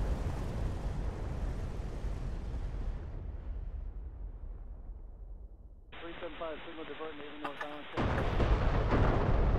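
Tank cannon fire and explosions in a video game, with a dense rumbling barrage of blasts and bursts that shift to a brighter, busier texture later, heard alongside people talking.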